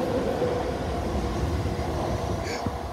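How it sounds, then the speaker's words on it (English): A Class 442 South Western Railway train rumbles past a footbridge, a steady loud roar of wheels and motors filling the whole moment without a break. "That was an old train."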